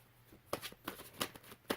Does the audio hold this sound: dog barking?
no